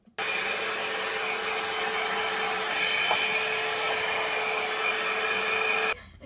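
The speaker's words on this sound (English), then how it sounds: "Just gonna blow dry and see" A handheld hair dryer blows steadily on freshly toned, washed and conditioned blonde balayage-highlighted hair, a loud continuous whoosh and whine that holds for about six seconds before cutting off abruptly.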